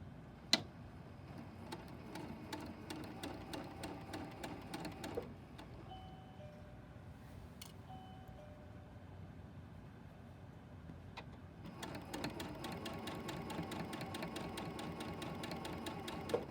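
A sewing machine stitches binding onto a tree skirt in quick even runs, pausing briefly midway before starting up again, close and clear with no talk over it.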